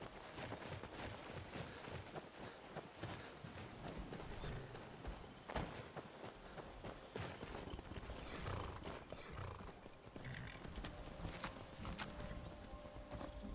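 A horse in Skyrim clip-clops along in a steady, moderately loud rhythm of hoofbeats, with scattered clatter and a faint whinny mixed in.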